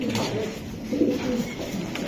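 Young racing pigeons from a club loft cooing up close, low soft burbling calls repeating steadily across the short stretch.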